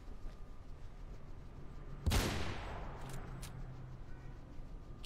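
Gunfire in the first-person video game Mirror's Edge: one loud, sharp burst midway with a decaying crackling tail, set against a dull steady background of distant battle noise.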